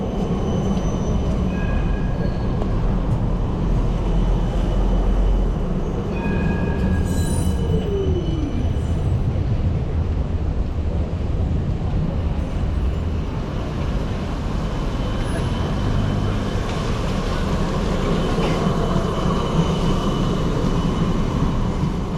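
Big 5-section Combino low-floor tram rolling past on Elizabeth Street in the rain, a steady rumble with brief wheel squeals, close by under constant rain noise, with no talking.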